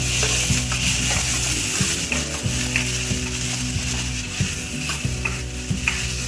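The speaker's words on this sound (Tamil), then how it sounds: "வெங்காயம் ஓரளவுக்கு பொன்னிறமாக வதங்கினதுக்கு பிறகு நாம் கட் பண்ணிக்கக்கூடிய தக்காளியை இதோட சேர்த்துக்கலாம்" Chopped onions and tomatoes fry with masala in a pan for a hotel-style kurma, a steady loud sizzle with spoon scrapes and stirring knocks recurring every second or so, no voices.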